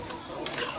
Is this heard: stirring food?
yes